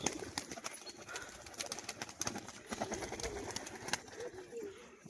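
Male tumbler pigeons making soft cooing calls nearby, with quiet rustling and a few sharp clicks through the brief recording; no talking.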